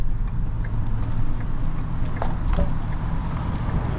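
A crew cab truck drives along with steady low engine rumble and road noise throughout, a few faint clicks and knocks from the cab rising above the constant drone.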